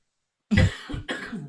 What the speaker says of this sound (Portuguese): E agora eu vou tossir.